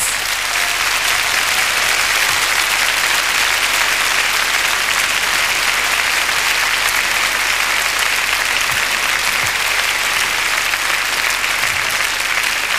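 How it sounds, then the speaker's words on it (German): Audience applause at the 1984 German song contest final for Luxembourg, a steady, dense wash of clapping from a large crowd that holds loud and even throughout. "Einen herzlichen Applaus"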